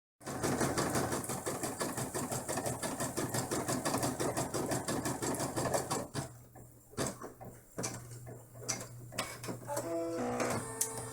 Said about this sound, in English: the next step will be the satin stitching around the windows